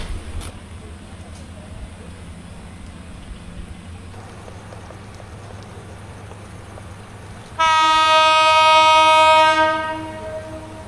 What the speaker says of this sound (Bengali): ছেড়ে দিল আমাদের ট্রেন ভানুগাছ থেকে।